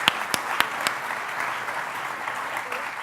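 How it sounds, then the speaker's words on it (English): An audience at a business forum in Slovenia applauds a welcomed guest speaker, a full, steady burst of clapping with a few sharper claps standing out near the start, loud and close throughout. "A round of applause."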